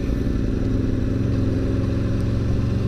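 A 2021 Aprilia RSV4 1100 Factory motorcycle engine pulls steadily in third gear at about 30 mph, a loud, continuous low throbbing drone with even pulsing, close and unbroken with no voices.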